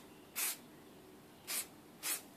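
Hairspray sprays onto a scale model ahead of paint chipping in three short, close hissing bursts separated by quiet pauses.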